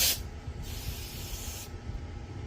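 Carburetor cleaner sprays in hissing bursts onto the carburetor of a Predator generator that won't start, one short blast followed by a longer steady hiss, close up over a low background rumble.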